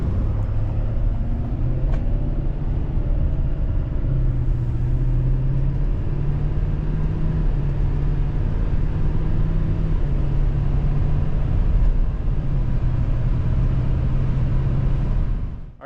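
A 2024 Chevrolet Silverado Duramax dually truck driving, a continuous low engine drone and road rumble heard from inside the cab with slight shifts in pitch as it moves, steady and fairly loud.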